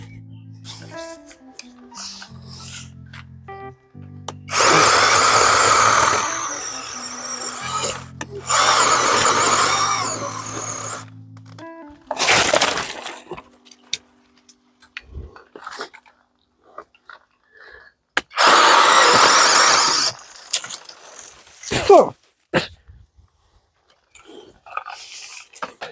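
A pole chainsaw cuts branches while pruning a fruit tree. Loud whining bursts of cutting lasting a few seconds each are separated by quiet pauses and occasional light knocks.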